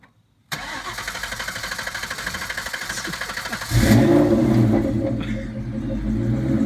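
A Ford Mustang engine cranks with a rapid rhythmic starter whir, then catches and roars into a loud, close idle with a deep steady rumble and slight revving, no voices.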